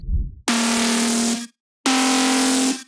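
Drum and bass synth lead made from a saw wave and a wavetable with FM and peak modulation, playing two sustained buzzy bright notes separated by a short gap, loud and alone with no voices.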